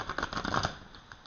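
Tarot cards riffled and shuffled in a brief flurry of soft, papery flutters during the first second, fading to a quiet tail.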